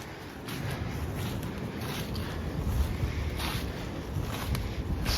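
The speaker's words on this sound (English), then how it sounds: "I saw some trees flying around, but that's probably just the wind." Steady, rough wind blows through trees in a rural outdoor setting, a continuous rushing roar with gusty swells and dull buffeting against the microphone.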